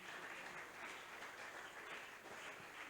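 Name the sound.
congregation applauding in church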